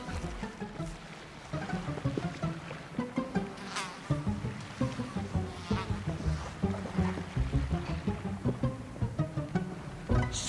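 Wasps buzz around a high-country lake, a steady insect hum layered with rapid pulsing whirs that stay close and fairly loud, with no talking.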